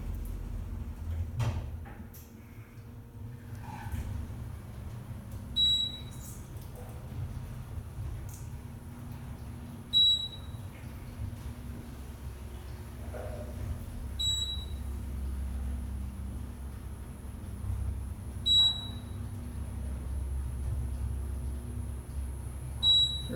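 An Otis Gen2 elevator travels up to the fifth floor. A low, steady motor hum runs throughout, and a high electronic chime beeps faintly at regular intervals, roughly one for each floor it passes.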